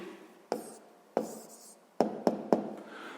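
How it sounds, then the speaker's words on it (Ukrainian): A pen or pencil writes an answer to a sixth-grade math exercise, close and quiet, scratching steadily with several sharp taps as strokes begin and end. "записуємо ну тоді відповідь"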